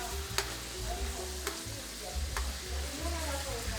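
Food fries in a hot pan, a steady close sizzle with a few sharp scraping or tapping stirs, while people talk quietly nearby.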